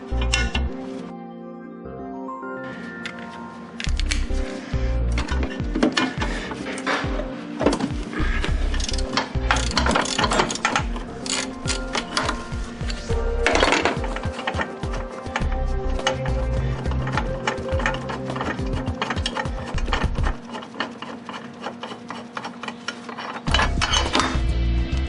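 A ratchet and metal tools clink and click while a 17mm bolt is worked out of the passenger-side mount on a 1997 Honda Civic during transmission removal, giving continuous close metallic rattling and clanks.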